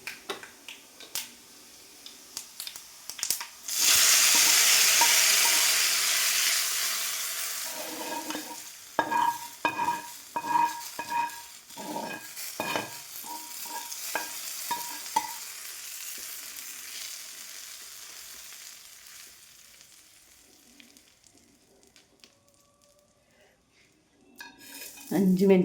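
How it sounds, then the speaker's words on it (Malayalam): A loud burst of sizzling as hot tempering hits a pan of curry, fading into scattered stirring clinks of a spoon against the pot before things settle quiet. "താളിപ്പ് റെഡി ആയിട്ടുണ്ട്. ഇനി നമുക്കിത് കറിയിലേക്ക് ഒഴിച്ചു കൊടുക്കാം."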